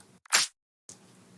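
A single sharp, bright clap bursts out alone, followed by a short silence and then a quieter, softer wash of noise.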